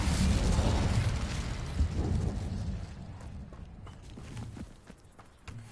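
An Incendio fire spell is cast in Hogwarts Legacy, producing a loud, rumbling fiery burst that dominates at first, then gradually fades with some crackling and scattered pops.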